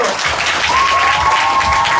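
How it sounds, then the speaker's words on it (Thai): Loud, continuous audience applause greets the K-pop group (G)I-DLE at a Bangkok press conference for their 2023 world tour, steady clapping with a faint tone and crowd murmur beneath. "ขอเสียงปรบมือดังๆให้กับ G Idol"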